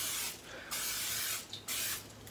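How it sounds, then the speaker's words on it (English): Several bursts of olive oil cooking spray into a baking dish, hissing in short pulses with brief pauses between them, close to the microphone. "just get you some cooking spray, doesn't matter what kind."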